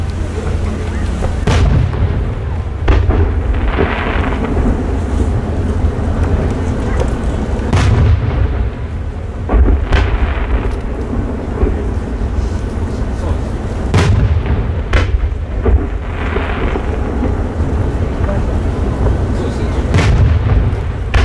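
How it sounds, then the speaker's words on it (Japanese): Chrysanthemum-type aerial firework shells burst at a fireworks competition in Yatsushiro, Japan: loud repeated booms at irregular intervals, each a sharp crack followed by rumbling echo over steady crowd noise. "のぼり木付き八重咲きさざ波菊の花"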